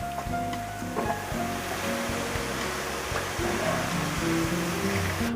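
Marinated shrimp fry in hot oil, a steady dense sizzle and crackle filling the whole stretch with a few louder pops, close and continuous with no talking.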